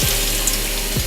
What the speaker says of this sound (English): first you want to add some water in your spray bottle